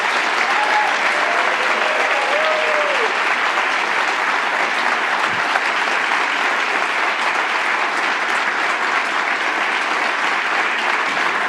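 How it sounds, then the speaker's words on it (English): Sustained, dense applause from an audience at the Kofi Annan Courage in Cartooning Award ceremony, loud and steady throughout with no letup, filling the whole stretch without speech. "Keep some of the applause for later"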